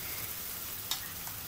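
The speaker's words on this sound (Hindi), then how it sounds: "थोड़ा सा इसको हल्का सा भुनने देंगे अभी" Onion, garlic and ginger masala paste, with tomato added, fries in a pan for restaurant-style matar paneer, giving a steady soft sizzle with one brief clink partway through.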